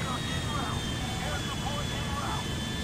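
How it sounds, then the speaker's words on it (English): A steady aircraft engine drone runs throughout while flying in a video game, a continuous even roar with a faint high tone on top and no breaks. "So we're flying as Trevor"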